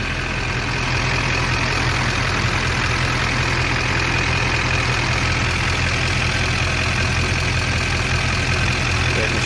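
A diesel engine idles steadily after about two hours of running on a fuel system treated with Marvel Mystery Oil, with a continuous, close, even rumble and broad mechanical clatter that stays level throughout, with no voices over it.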